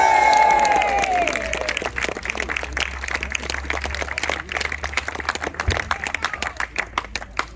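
Labour activists at a campaign battle bus event give a big cheer that opens with loud whoops, then turns into sustained applause that grows more scattered and fades toward the end.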